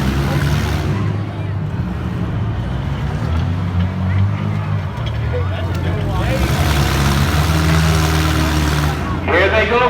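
Demolition derby cars at the Skowhegan Fair rumble and rev in a dense, continuous mechanical roar as they shove one another, with crowd noise and an announcer's voice mixed throughout.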